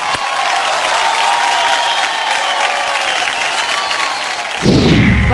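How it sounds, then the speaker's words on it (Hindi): Loud applause and crowd noise from a large audience at a televised awards show in 2020, a dense continuous roar with tonal music or effects running underneath and a sharp deep boom near the end. "एक बार जोरदार तालियां हो जाए"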